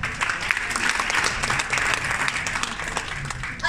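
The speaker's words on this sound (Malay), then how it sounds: "Berikan tepukan." An audience at a Malaysian success-story sharing event breaks into a short, loud round of applause, dense crowd clapping that fills the room throughout, with some voices mixed in.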